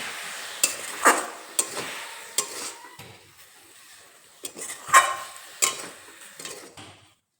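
Radish greens stirred in a pan after their water has cooked off over medium flame, giving a series of separate scraping, clattering strokes of utensil against pan with quiet pauses between them, close and fairly loud.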